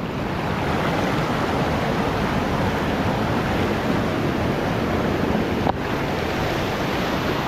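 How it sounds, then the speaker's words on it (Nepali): A swollen river in flood rushes steadily nearby, a loud continuous roar of churning water with no voices over it and a brief knock near the end. "खोला देख्न सक्नुहुन्छ गाइज बवाल ठुलो आइरहेको छ"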